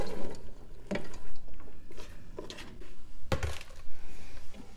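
Onions tipped into a warm pan of oil, giving a few soft clatters and knocks as they land and are moved, over a quiet background hiss with no talking.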